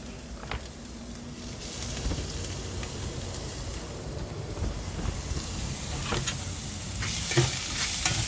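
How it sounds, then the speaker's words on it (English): Onions and garlic sizzle in olive oil in a pan for seafood risotto, a continuous close frying hiss with occasional stirring scrapes and clicks. "And then goes your onions and your garlic."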